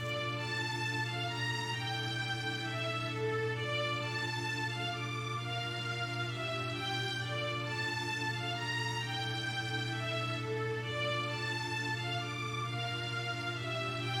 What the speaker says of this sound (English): the primary melody is the top melody here, which acts almost as like a strings or violin solo